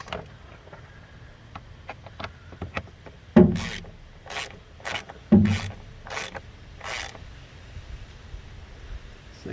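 Screw being snugged down on a Jeep Renegade air filter housing: a series of short scraping, ratcheting rasps and clicks in two or three bursts, close and moderately loud, with light handling knocks between them.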